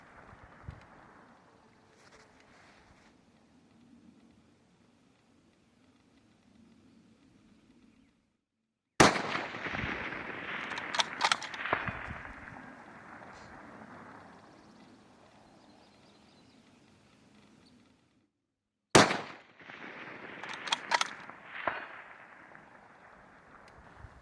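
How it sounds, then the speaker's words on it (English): Rifle shots from a rifle in an XLR Element 4.0 Magnesium chassis fire at steel targets 700 yards away. Two sharp, loud reports arrive about ten seconds apart, each followed by rumbling echo and decay, over low outdoor background. "there was no problem placing successive shots on this DM target steel at 700"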